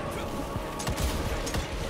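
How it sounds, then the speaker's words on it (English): Gunfire in the video game Evil West, a run of loud, punchy shots in irregular bursts over a dense rumbling game backdrop. "No, quit shooting."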